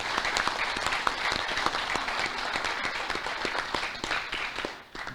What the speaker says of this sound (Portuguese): quero, obviamente, deixar uma grande salva de palmas